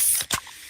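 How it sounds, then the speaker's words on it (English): A freshly opened Pepsi gives a quick, close hiss of fizz, a brief spray-like burst lasting under a second with no voices. "that's the sound of a freshly opened fizz-filled Pepsi"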